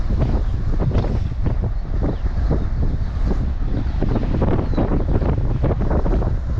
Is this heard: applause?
no